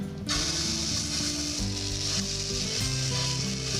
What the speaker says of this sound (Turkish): Tavanın içerisine bir kaşık pankek hamuru döküyorum.